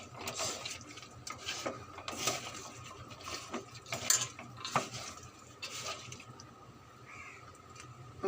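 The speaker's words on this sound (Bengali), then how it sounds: "এখন হাত দিয়ে মাখিয়ে নেব।" Fish and potatoes mixed together by hand for a bhaji, producing close, irregular squelching and wet stirring noises with light scrapes against a bowl, no speech.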